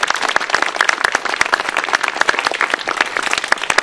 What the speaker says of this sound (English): can we have a round of applause for Mary Beth Nichols